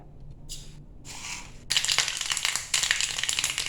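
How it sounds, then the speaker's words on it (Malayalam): Half a teaspoon of mustard seeds in about two tablespoons of hot coconut oil, for a Kerala colocasia-stem and dal curry, starts spluttering after a quiet moment, then bursts into close, rapid crackling pops that keep going. "കടുക് പൊട്ടി വന്നിട്ടുണ്ട്."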